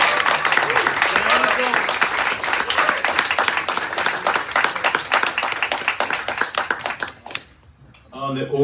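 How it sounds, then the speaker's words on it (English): An audience applauds at a jazz concert, dense clapping filling the room for several seconds before fading out, with a voice speaking over it and continuing at the end. "Give them another round of applause."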